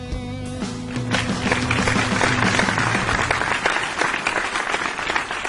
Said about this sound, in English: Wow, you brought in a clap track.